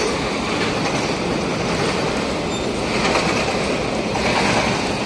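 A train rolls through a station, with a dense, steady rumble of wheels on rails and faint squeals, loud and close for the whole stretch.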